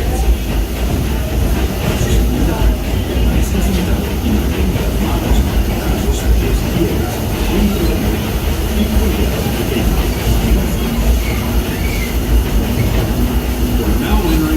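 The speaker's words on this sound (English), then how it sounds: "welcome aboard the Disneyland Railroad" The Disneyland Railroad train, pulled at night by steam locomotive Ernest S. Marsh No. 4, rolls along the tracks with a dense, steady rumble and rattle of cars and wheels, loud and close throughout, with faint voices mixed in.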